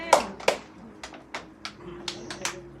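A church congregation claps along during a service, a series of sharp, slightly irregular hand claps with a faint voice in the background.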